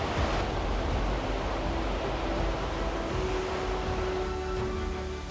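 Continuous roaring rush of falling water, loud and steady with a windy, surf-like texture throughout.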